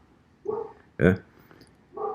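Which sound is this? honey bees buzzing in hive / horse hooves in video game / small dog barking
small dog barking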